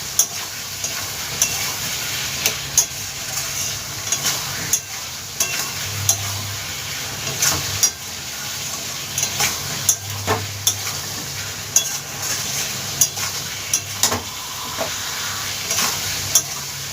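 Spices frying in oil with Kashmiri chili powder for a Bengali rohu fish curry, a steady sizzle under repeated scraping stirs of a spoon against the pan, close and continuous.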